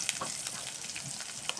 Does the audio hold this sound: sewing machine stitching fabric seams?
no